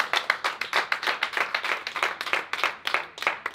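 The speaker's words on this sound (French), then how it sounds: "On s'applaudit tous dès qu'on est passé" Small group inside a psychiatric hospital claps together in quick, distinct, slightly uneven bursts, the individual hand claps close and clearly separated rather than blending into a wash.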